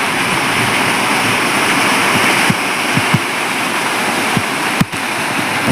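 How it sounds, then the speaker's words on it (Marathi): A small waterfall on the road to Sateri Mahadev temple in the Kolhapur hills, water coming down from the slopes, makes a steady, loud broadband rush that continues unbroken, with a few faint knocks and no voices. "लहानसा धबधबा."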